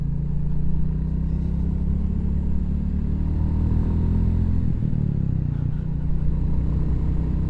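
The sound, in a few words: Royal Enfield Classic 350 motorcycle being ridden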